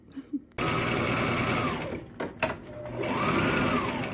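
A sewing machine runs steadily while stitching the waistbands of a pair of beginner pants, a loud continuous mechanical whir with a couple of brief pauses and slight speed changes partway through.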